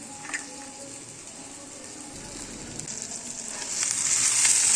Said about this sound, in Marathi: आता धुतलेल्या शेंगा घालते आहे